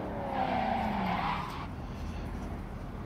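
A car skids with a loud tire screech in the video game Cyberpunk, the squeal fading after about a second and a half into a steady engine and road rumble.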